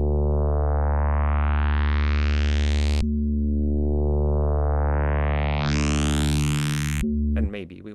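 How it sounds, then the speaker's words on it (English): A Vital software synth with distortion plays a sustained, buzzy tone whose upper harmonics sweep steadily upward in repeated rises, loud and constant, with a brief glitchy break at the end. "maybe we want to automate this distortion to slightly less. This is a little too much."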